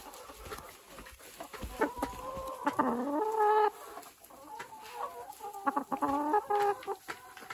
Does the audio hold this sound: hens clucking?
yes